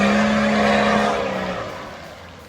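A 4WD's wheels spin on a rocky, washed-out forest track, a loud, strained engine and tyre whine that holds steady and then fades away over a couple of seconds.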